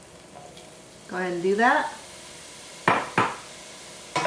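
Soy curls cook in a hot pan over medium-high heat with a steady low sizzle, broken by a few sharp clatters of stirring, while a person talks briefly.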